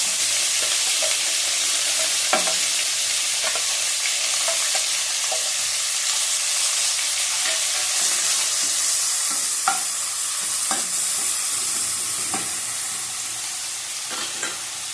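Fried onion tossed into hot oil with black cumin seeds in a large kadai wok and stirred, giving a steady close sizzle broken by sharp scraping clicks of the spatula, with no talking.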